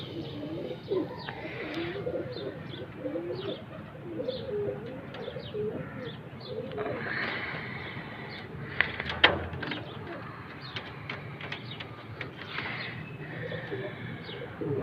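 A pair of Zera Ferozpuri fancy pigeons cooing close by, repeated soft throaty coos in a rolling rhythm with a few chirps and light clatter, while someone speaks faintly in the background.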